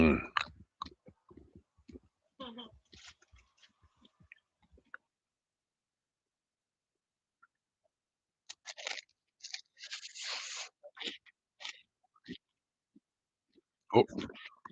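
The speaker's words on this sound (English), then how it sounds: "let me move that so you don't hear my crunching" Someone bites into and chews an ice cream cone, making crisp crunching and clicking sounds in short clusters close to the microphone, with pauses of near silence between.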